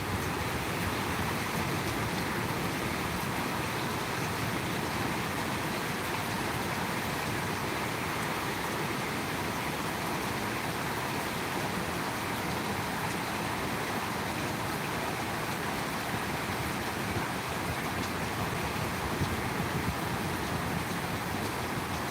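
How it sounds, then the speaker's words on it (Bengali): Rain falls steadily as a broad, even hiss, with no breaks or individual drops standing out, continuous for the whole stretch without voices. "বৃষ্টিটা অনেকটা কমে গিয়েছে"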